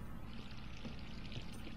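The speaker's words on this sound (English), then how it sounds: "Jill, did you leave your water on?" Running tap water in Resident Evil 3, a steady, fairly faint rushing pour that continues without break.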